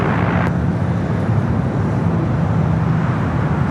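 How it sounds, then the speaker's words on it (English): A Boeing 787 Dreamliner taxis at Los Angeles International Airport, producing a steady broadband jet engine rumble and hiss at moderate distance, continuous and unbroken with no talk. "The Dreamliner now heading in to the southeast corner of the West Gates"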